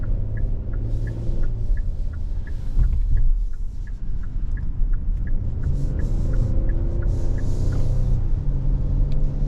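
A 2023 Kia Telluride XLine SX Prestige AWD V6 SUV drives along, giving a steady low engine and road rumble from inside the cabin, with a faint regular ticking over it.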